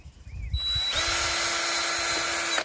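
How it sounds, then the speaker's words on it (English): A power drill spins up and bores steadily into wood with a high, whining buzz for about two seconds, close by and loud, with no talking. "Just obviously be careful you don't drill all the way through"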